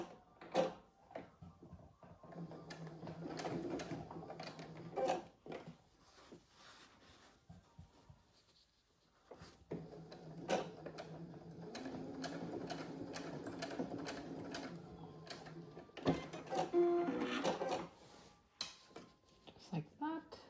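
Sewing machine stitching a tack-down stitch on a boxy fabric pouch, faint bursts of rapid mechanical whirring separated by pauses, with a quiet voice speaking between runs.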